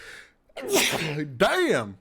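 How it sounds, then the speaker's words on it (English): After a brief pause, a close, loud sneeze bursts out, followed quickly by a second sharp exhale, and a voice speaks afterward. "I'm going to sneeze."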